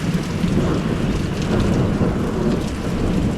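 Heavy rain pours steadily on a hiking trail in the mountains of Corsica as a thunderstorm rumbles low underneath, a dense continuous wash of sound with no breaks.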